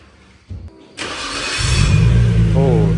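Nissan Skyline R34 GT-R engine cranking and catching on a cold start in an Austrian village, quickly firing up into a loud, steady idle that builds in level after a brief starter whir, with people talking nearby.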